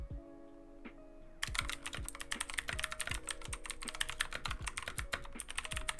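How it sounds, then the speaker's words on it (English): Keys clatter on a keyboard fitted with HyperX keycaps. After a quiet first second or so, a fast, continuous run of close, crisp clicks and thocks follows, with no talking. "let's do some keyboard ASMR"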